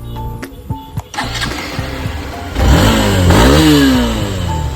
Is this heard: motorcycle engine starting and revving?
yes